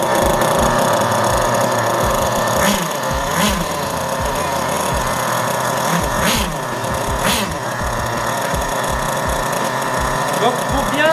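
A Kyosho Inferno Neo nitro RC car engine is being started during break-in, with a loud, continuous buzzing, ratcheting mechanical drone and repeated pulses of starter effort and revving heard up close.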